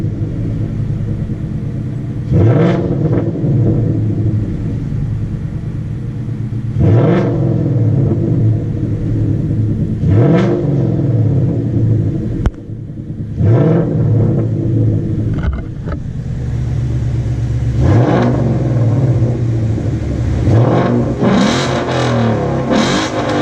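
A 2017 Ford Mustang V8 with an inexpensive aftermarket exhaust revs repeatedly, each loud throaty blip rising and falling between idle rumble, about six bursts in close succession with no talk.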